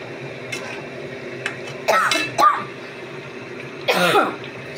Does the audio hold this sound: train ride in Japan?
no